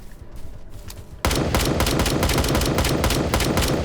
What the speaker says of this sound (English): Let's use the assault with a single shot